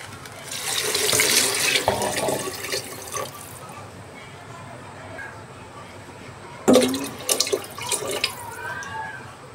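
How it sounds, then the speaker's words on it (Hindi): Water runs and splashes into a pressure cooker of khichdi for a few seconds, then stops; later a brief second splash and some clattering nearby. "तो चलिए अब इसके अंदर पानी डालते हैं"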